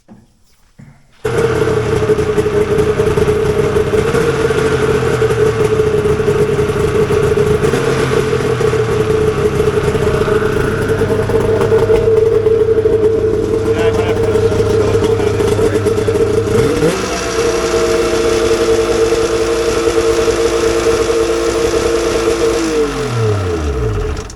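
A vintage Polaris RXL snowmobile engine starts and runs loud and close for over twenty seconds, holding a steady buzzing idle that rises briefly, then dips and winds down near the end, with no talk.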